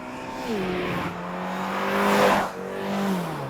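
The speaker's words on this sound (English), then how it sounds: "You put your foot down, it leaps off the line" A 2024 Subaru BRZ tS sports car accelerates hard from a launch, its engine note climbing through a gear change and rising again, loud and close with no talk.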